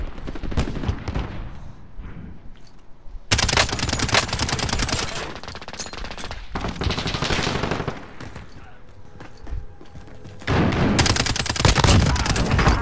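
Rapid automatic fire from a Striker 45 submachine gun in Warzone Modern Warfare, crackling in loud bursts over a busy game soundscape, with stretches of denser gunfire separated by quieter lulls.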